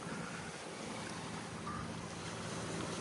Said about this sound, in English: having a lovely motor sail, unfortunately, because there's not quite enough wind yet